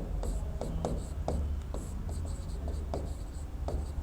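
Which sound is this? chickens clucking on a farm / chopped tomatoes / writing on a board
writing on a board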